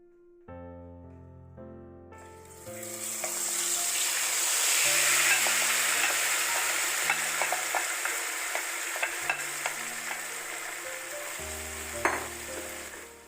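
Marinated chicken sizzles and fries loudly in a wok, with occasional stirring clatter and soft background music throughout.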